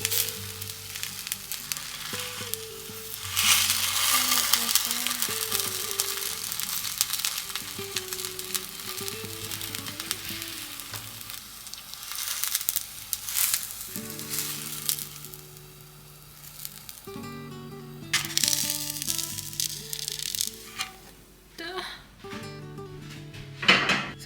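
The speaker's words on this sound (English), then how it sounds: "do you hear the crisp on like the tortillas?" A tortilla-wrapped frozen burrito crisps in a frying pan over medium heat, with a steady sizzle running under clattering pan and utensil handling, knocks and shifting contact noises, loud and close.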